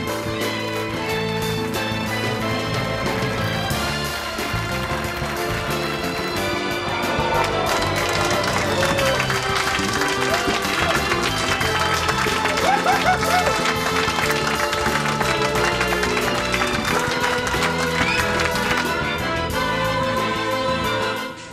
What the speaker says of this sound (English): Everybody is applauding